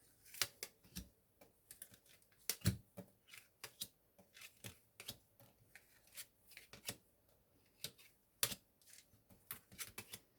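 Tarot cards shuffled and dealt in a quiet room, a steady run of crisp card snaps and flicks in irregular rhythm, close and fairly soft, with no talking.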